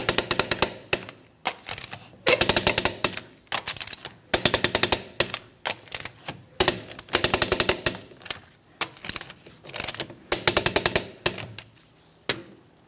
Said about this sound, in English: let's go ahead and torque these lug nuts to that 100 foot-pounds in a crisscross manner